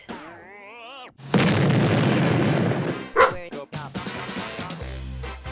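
A dog barks a few times up close, loud sharp yaps over a noisy burst, with a whining tone just before.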